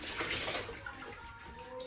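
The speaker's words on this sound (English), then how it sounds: "I put a little bit of water on my hair so my hair is wet." Water being applied onto curly hair gives a soft, continuous splashing and trickling close by, with no talking over it.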